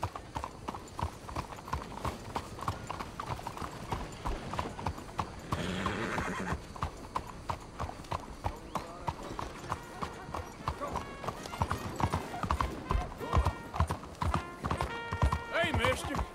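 Horse hooves clip-clop at a steady walking rhythm in a Red Dead Redemption 2 frontier setting, with occasional whinnies and tack noise. Voices of passing characters exchange greetings over the hoofbeats.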